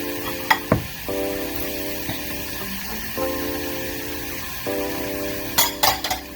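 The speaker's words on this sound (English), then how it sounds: "Now I am going to go ahead and add in the garlic." Chopped garlic goes into a hot pan while making spicy beef empanadas, giving a soft steady sizzle under clinks of a utensil against the pan, with a few sharp taps near the start and end.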